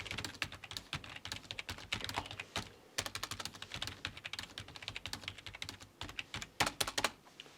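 Close, crisp clatter from a mechanical gaming keyboard being typed on in quick bursts of keystrokes, with a few heavier thocks mixed in and short pauses between runs, no voices.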